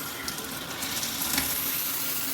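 Water running from a Luxsego filtered shower head, a steady broadband hiss and patter of spray falling close by, even and unbroken throughout with no voices.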